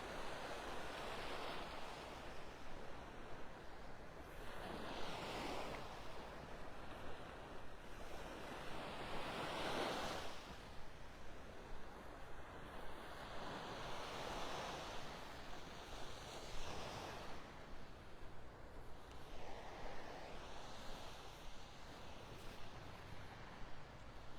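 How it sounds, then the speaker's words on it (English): Surf rolls onto a beach in North Naples, Florida, a continuous wash of breaking waves that swell and recede every few seconds, mixed with wind rumbling across the microphone, with no voices. "I wish you were here walking the beach with me."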